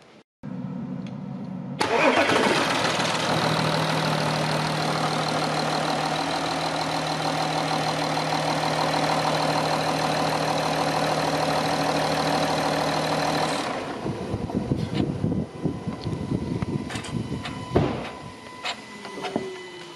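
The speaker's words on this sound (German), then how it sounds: "Können wir einmal das Fahrzeug starten und dann können wir einmal den Riementrieber prüfen" An Audi A6 4G TDI diesel engine cranks and starts, then settles into a loud, steady idle for about eleven seconds before the tone shifts to rattly, irregular engine-bay noise, close to the car.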